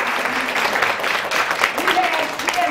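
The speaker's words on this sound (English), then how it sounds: "Let's give her a hand clap." An audience at a women's empowerment event applauds steadily, a dense wash of clapping heard close, while a voice talks over it.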